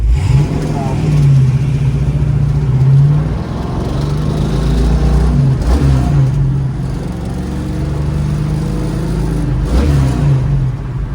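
A 1970 Dodge Challenger convertible with a 408 stroker engine rumbles loudly from inside the car while driving, its deep engine note rising and falling in a few revs, with a person talking over it.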